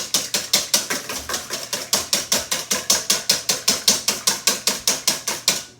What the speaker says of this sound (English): I'm going to give them a beat.